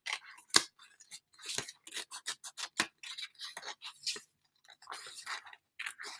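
Scissors cutting paper along a line, a quick series of close, crisp snips and rustles with short pauses between cuts.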